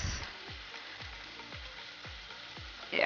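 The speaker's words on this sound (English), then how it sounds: "we're going to break our eggs in." Eggs, four of them, sizzle and fry in a pan for a breakfast of potatoes and eggs, a steady soft crackle with repeated low knocks of a utensil against the pan.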